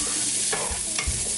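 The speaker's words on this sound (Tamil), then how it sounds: "ஸோ வெங்காயம் நல்லா வதங்கி வரணும்." Finely chopped onions added to hot oil with lightly fried fennel seeds for a quail pepper fry, stirred in a pan with a steady close sizzle and a couple of scraping stirs.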